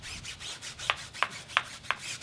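A bristle brush scrubs a car tire in four sharp, evenly spaced rasping strokes over a soft background rubbing, close and fairly quiet.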